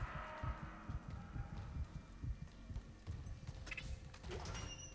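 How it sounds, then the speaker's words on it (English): Heartbeat in the Dead Space Remake video game: faint, low, rhythmic thumping pulses repeating steadily in the background, with some quiet higher game sounds near the end. "Why is my heart beating?"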